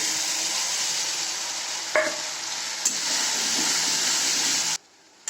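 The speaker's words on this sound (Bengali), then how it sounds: "মশলাটাকে ভালো করে কষিয়ে নিচ্ছি" A spice paste of turmeric powder and chillies sizzles and fries steadily in hot oil for a vegetarian ridge gourd dish, with a loud continuous hiss, occasional stirring knocks, and a sudden cut near the end.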